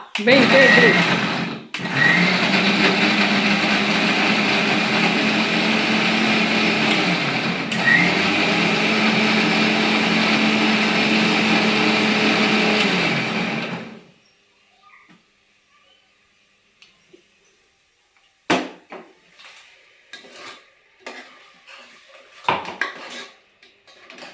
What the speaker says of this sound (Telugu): మిక్సీకి వేసి వేస్తాను